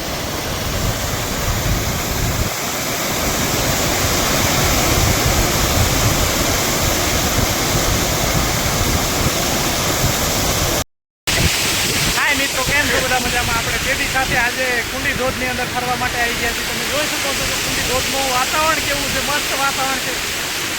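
Kundi waterfall roars in a dense, unbroken rush of falling water, loud and close, filling the whole scene, cut by a brief drop-out midway, with faint voices barely audible beneath the torrent.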